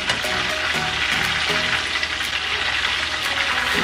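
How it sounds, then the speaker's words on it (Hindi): Chicken sticks frying in a pan, second side down, giving a steady, fairly loud broadband sizzle throughout with faint clinks, no talking. "दूसरी साइड को भी हम तीन से चार मिनट के लिए फ्राई कर लेंगे"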